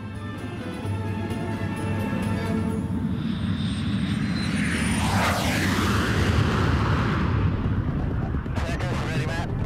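A carrier aircraft flies with a rocket-powered space plane slung beneath its fuselage, its engines a loud steady roar that swells and sweeps past through the whole stretch.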